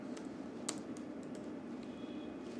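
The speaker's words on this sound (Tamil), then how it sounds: "ஜஸ்ட் எஸ்ஐபி கால்குலேட்டர் கூகுளில் டைப் பண்ணாலே போதும்." A few faint, scattered keystrokes tap on a computer keyboard while a Google search is typed, set against a soft, steady background hiss.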